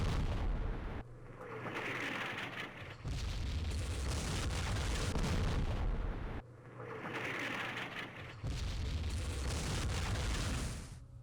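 Artillery fire in a Vietnam War strategy video game set at the Battle of Dak To: loud, rumbling blasts that swell and fade in two long waves, with booming impacts layered over continuous battle noise.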